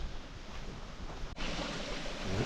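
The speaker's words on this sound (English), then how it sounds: "You can hear the water underneath it" Water washes and gurgles under a canoe on a lake in Algonquin Park's backcountry, a soft steady rushing with faint wind, quiet and close.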